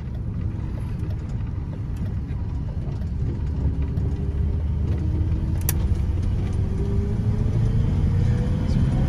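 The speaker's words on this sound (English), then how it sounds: "Take this F-250 for a quick cruise." A 1984 Ford F-250 pickup with a 460 engine drives along, its deep, steady engine rumble filling the cab at constant volume, with a faint rising gear whine.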